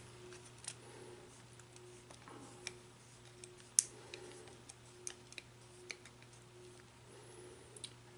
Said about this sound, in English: Take our 3mm hex key Allen wrench.